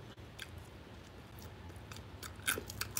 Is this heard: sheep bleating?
no